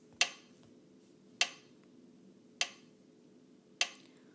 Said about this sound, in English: If we clap and count this one, it sounds like this.